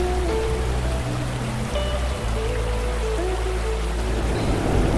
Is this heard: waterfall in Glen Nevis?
yes